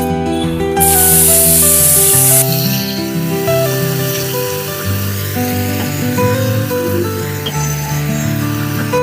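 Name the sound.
ground onion garlic ginger tomato masala paste sizzling in hot oil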